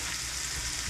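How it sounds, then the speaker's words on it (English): Onions cooking in a pan, a brief soft, steady hiss and crackle of frying. "So now we're going to cook our onions for a little while till they become sort of transparent"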